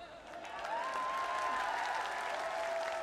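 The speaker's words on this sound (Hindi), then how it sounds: "एक बार जोरदार तालियां बजा दो इन लोगों के लिए।" Crowd applause at a political rally in Delhi: sustained clapping from a large audience that swells after a quiet start, with a faint whistle-like tone running through it and no clear speech.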